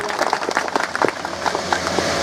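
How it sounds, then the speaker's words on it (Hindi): Audience applause at a motivational seminar in India, steady crowd clapping throughout with a few sharper individual claps standing out, moderately loud and continuous. "अपने परिवार के लिए बहुत जोरदार तालियां शीतल वाला स्टाइल में"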